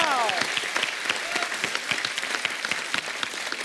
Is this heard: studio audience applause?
yes